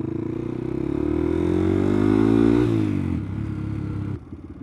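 Custom-built Honda Grom minibike revving hard as it accelerates through the gears, a loud buzzy engine note that climbs in pitch, drops at a shift, then cuts back near the end.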